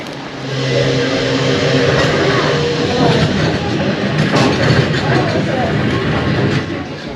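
A train on the Isle of Man rumbles past close by with a heavy, rolling drone and rattling, loud and steady for several seconds before easing off.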